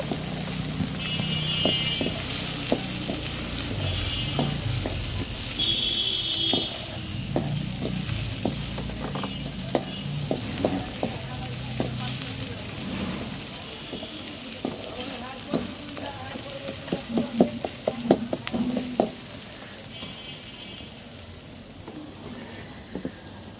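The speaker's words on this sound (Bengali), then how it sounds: "বাগার দেওয়া হবে। এখন তেজপাতা দিয়ে দিল।" Bay leaf and spices sizzle and crackle steadily in hot oil for a khichuri tempering, with stirring clinks and occasional louder pops, fairly quiet and close, with faint background noise.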